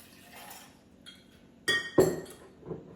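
Ice and a wine glass clinking while an Aperol Spritz is built over ice at a bar, a few soft taps followed by two sharper, louder glassy clinks near the end, close and without talk.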